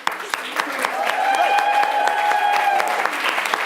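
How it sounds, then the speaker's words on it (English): At a live improv theater show, an audience applauds in dense clapping with cheers and whoops rising over it, sharp individual claps standing out near the start. "Let's give a big round of applause for our house and tech."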